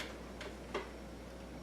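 A Joker alarm clock ticks faintly in a quiet room, a couple of soft, crisp clicks over a low steady hum.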